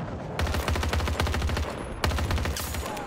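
Burst-fire rifle in Battlefield 2042 gameplay, two rapid strings of loud, close shots with a heavy low thump under each crack, separated by a brief gap.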